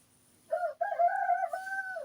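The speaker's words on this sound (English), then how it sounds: "The cock-a-doodle-doo's awake." A single rooster crows close by, one long drawn-out cock-a-doodle-doo that rises and holds before trailing off.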